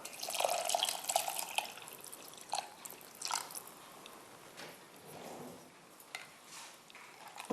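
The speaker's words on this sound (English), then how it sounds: "pour this chicken stock" Chicken stock poured into a pot of simmering bone soup, a close, dripping and splashing liquid sound with intermittent bursts and trickles, fairly quiet and with no talk.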